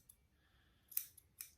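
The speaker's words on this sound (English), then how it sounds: "I'm going to take my scissors and make a little nip right here" Scissors snip paper in a quiet room, with a faint slide of the blades followed by two or three crisp, close cuts.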